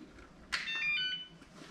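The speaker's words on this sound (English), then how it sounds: "it has this beep sound, so telling you that I'm on" A single bright electronic power-on beep from a robot vacuum rings out, holding briefly before fading, in a quiet room.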